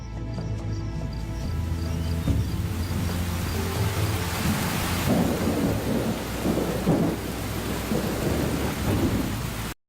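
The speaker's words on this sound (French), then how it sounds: "La petite saison des pluies débute en novembre." Heavy rain pours steadily during a thunderstorm in the African bush at the start of the short rainy season in November, with deep thunder rumbling throughout and swelling into louder rolling cracks midway, with no voices.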